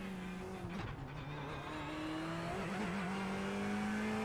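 Ferrari 488 Evo race car lapping Hungaroring in the iRacing sim, its engine droning steadily with rising and falling pitch through gear changes, loud and close with a brief tire scrub, no talking.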